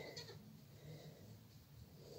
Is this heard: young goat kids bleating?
yes